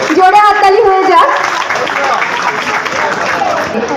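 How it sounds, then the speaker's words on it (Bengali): A voice speaks over a loudspeaker at a student award ceremony, then a room of people breaks into sustained, dense clapping that continues to the end. "জোরে হাততালি হয়ে যাক।"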